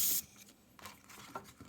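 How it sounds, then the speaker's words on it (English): Airbrush hiss spraying Createx Illustration Colors onto Blair synthetic paper, a loud opening burst followed by quieter, intermittent short spray puffs and soft rubbing noises, close and alone. "I'm going to spray it out till you can't get any darker."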